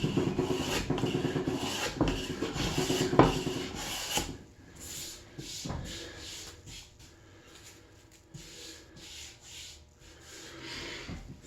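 A small Bailey hand plane takes smoothing passes along a spalted timber-framed table base, giving repeated rasping strokes, louder and denser at first, then lighter, intermittent shavings.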